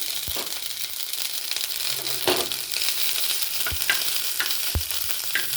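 Chopped ginger sizzles in hot oil with panch phoron, a steady crackling fry broken by a few sharp clinks and scrapes of a spoon stirring against the pan; no one speaks.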